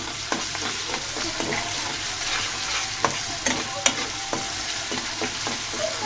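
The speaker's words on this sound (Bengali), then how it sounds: "এই পর্যায়ে আমি দিয়ে দিব আদা রসুন বাটা, দিয়ে সুন্দর মতো নেড়ে চেড়ে নিচ্ছি" Ginger garlic paste being stirred into onions frying in a pan, a loud continuous sizzle with a series of sharp spatula scrapes and taps against the pan, no voices.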